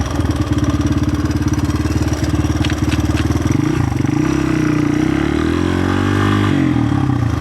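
A Honda XR200R motorcycle with a larger rear sprocket runs up through the gears nearby, its engine note climbing in steady rises and settling between shifts, loud and continuous.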